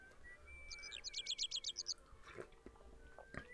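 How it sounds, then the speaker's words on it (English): A builder outside whistles a bright, warbling phrase of quick repeated notes that rises and falls, fairly faint and distant, followed by scattered background clatter. "there's a builder outside doing a merry whistle."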